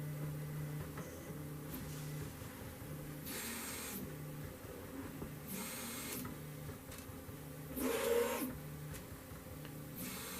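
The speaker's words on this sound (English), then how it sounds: "Printer's going through a leveling process, and then it will begin printing" A 3D printer runs its levelling routine before printing a keyguard, giving a faint, steady motor hum with short stepped motor tones and periodic bursts of airy whirring, one louder buzz near the end.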